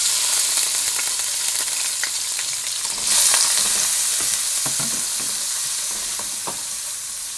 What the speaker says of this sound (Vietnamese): Dầu nóng mình sẽ đi xào tép trước.